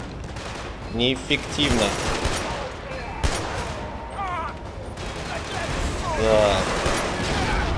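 Bursts of rapid gunfire from a weapon in Killzone 2, several short volleys crackling through a busy battle mix, while someone talks over them.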